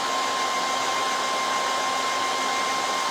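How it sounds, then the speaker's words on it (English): A hairdryer blowing over freshly stencilled Fusion Mineral Paint on a primitive cottage sign, a loud, close, unbroken whirring rush with a steady high whine throughout. "We could dry that super quickly with the hairdryer right here"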